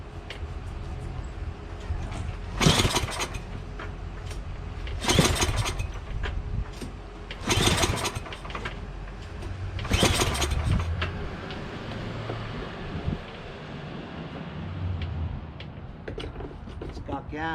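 A Yardman 8HP two-stage snowblower engine being cranked after priming: four loud pull-start bursts spaced a few seconds apart over a steady mechanical rumble, without a clear catch into running.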